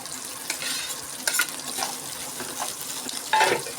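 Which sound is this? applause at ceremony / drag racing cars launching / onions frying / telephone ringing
onions frying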